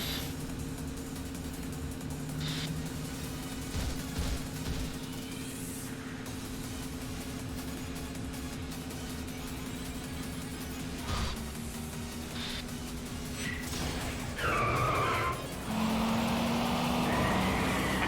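Video game engine hum of a taxi racing in Yakuza 5, a steady drone with a rising screech of skidding tyres near the end, continuous and moderately loud.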